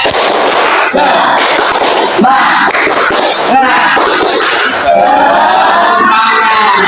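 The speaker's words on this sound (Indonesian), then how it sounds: "Tepuk semangat." A school class bursts into a loud, dense group clap-and-shout routine, many hands and voices together in a rough, driving rhythm that fills the room without a break.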